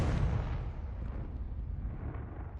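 A Confringo fire spell from Hogwarts Legacy bursts with a heavy, rumbling boom that tails off over a couple of seconds.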